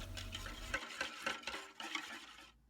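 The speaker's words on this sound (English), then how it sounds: "Then add 2 tablespoons of rice flour and mix well." Spoon stirring a batter of black sesame dessert powder, tapioca starch, rice flour and water in a bowl, giving a run of soft scraping and clinking strokes, close and fairly quiet, with no voices.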